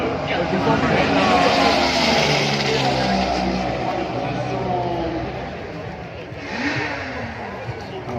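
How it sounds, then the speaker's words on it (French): Coluche's record-breaking motorcycle, run as a demonstration at the 88th Bol d'Or on Circuit Paul Ricard, Le Castellet, gives a steady loud engine roar and wind rush under continuous trackside commentary. "Voilà une démonstration de la moto de Coluche avec laquelle il a battu le record du monde il y a 40 ans."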